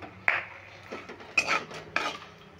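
Cooked rice tipped from a pot into a mixing bowl, a few close metallic scrapes and clanks of utensil against vessel with soft shuffling between them, quiet surroundings and no talk.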